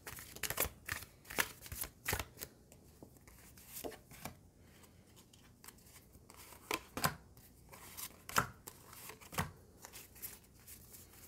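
Tarot cards are shuffled by hand in quiet bursts of riffling and snapping. Sharp card slaps come at an uneven rhythm with short pauses between them, close up and fairly soft.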